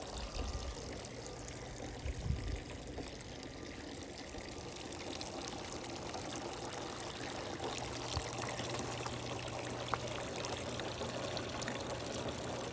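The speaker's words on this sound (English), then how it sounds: "Everywhere you go in the garden, you just hear the sound of water." Water flows and trickles steadily in a garden, a soft continuous splashing stream at low level with no talking.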